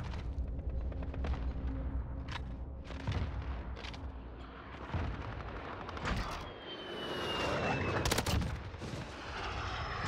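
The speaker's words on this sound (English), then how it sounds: "Support Helo has been acquired." A support helicopter in Call of Duty Modern Warfare multiplayer drones steadily overhead while bursts of machine-gun fire and explosions rattle around it at moderate loudness.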